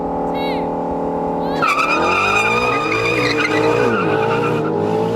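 A Ford Mustang and a BMW M4 launch side by side in a drag race with stability control off, engines roaring loud and close, with a sustained tire squeal and rising revs, and a voice talking over it.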